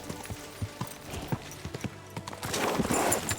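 Video game horse hooves from Kingdom Come: Deliverance II clip-clop in a steady trotting rhythm, close by, with louder clatter and rumble building near the end.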